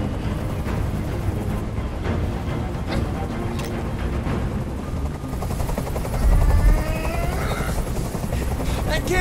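A helicopter's rotor from the video game Detroit: Become Human thumps steadily and loudly throughout, with voices and scattered bursts of other noise mixed in over the drone.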